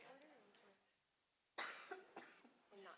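A person coughs hard near the microphone, a loud sharp burst followed by a few shorter coughs, after a brief moment of voice and quiet.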